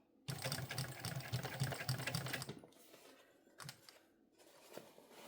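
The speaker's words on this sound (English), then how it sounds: "straighten everything out as best you can, and shut up and sew" A sewing machine stitches a mini backpack in a steady, loud, rapid whirring run for a little over two seconds, then stops, leaving quieter handling noises.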